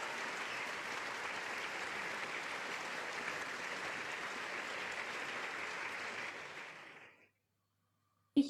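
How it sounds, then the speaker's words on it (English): A dense, steady wash of crowd applause honoring outstanding seniors at Ohio State's 2021 Student Life Leadership Awards carries on evenly for about seven seconds, then fades out to silence before a brief thump at the end. "Let's give a round of applause to all of our 2021 outstanding seniors"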